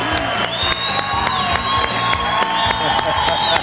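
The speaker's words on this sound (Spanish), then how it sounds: "Un aplauso para Nelson Polanía Polilla" A loud television studio audience claps, cheers and whoops for comedian Nelson Polanía, a dense, busy crowd sound with music and voices mixed through it.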